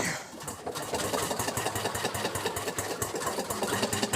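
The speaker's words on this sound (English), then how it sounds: "this is an internal combustion engine. The fuel source, in this case diesel oil, is ignited inside the cylinder." A diesel internal combustion engine running, a rapid, even mechanical chugging with regular knocking pulses that stays steady and fairly close throughout.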